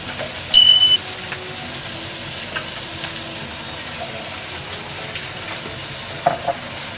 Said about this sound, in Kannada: ಮೀನು ಫ್ರೈ ಮುಗ್ದಿದೆ ಸ್ವಲ್ಪ ಚೂರು ಹಂಗೆ ಮೇಲ್ಗಡೆಗೆ ಸ್ವಲ್ಪ ಎಣ್ಣೆ ಹಾಕೊಳ್ತಾ ಇದ್ದೀನಿ